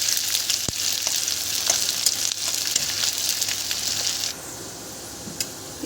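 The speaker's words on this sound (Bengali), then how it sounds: "পেঁয়াজটা একটু ব্রাউন করে ভেজে দেবো আমি" Chopped onions, added after cumin tempering, sizzle steadily in hot oil in a home kitchen pan, a bright continuous hiss with a light stir and a clink, then the sizzle drops abruptly quieter near the end.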